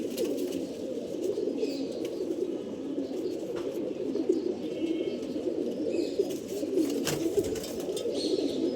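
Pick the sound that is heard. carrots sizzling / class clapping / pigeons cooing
pigeons cooing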